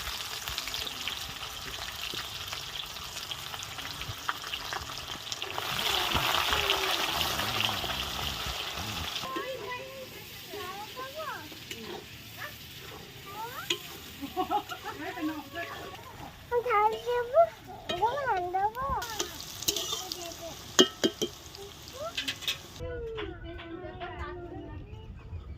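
Oil sizzles steadily in a pan with dried red chillies for a Bengali chicken curry, then onion goes in and a busier, crackling fry follows with stirring clinks. Faint voices sound in the background.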